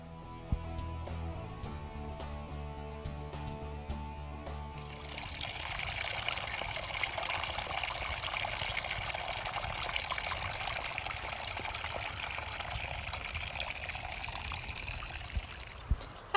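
Cold water flows steadily along the Pacific Crest Trail, a continuous rushing trickle heard alone, with a brief stretch of other sound at the start.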